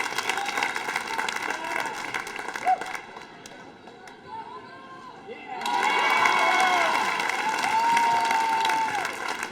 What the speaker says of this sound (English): Good round of applause for Bryan.